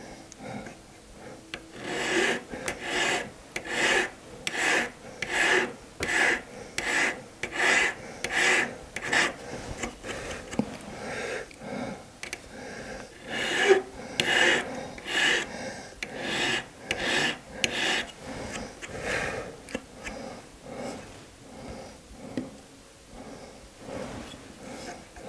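A goldsmith's 2-0 cut file rasps steadily across metal to put a small bevel on a piece, making a long run of rhythmic forward strokes, close and fairly loud, with a brief sharper scrape partway through and no talk.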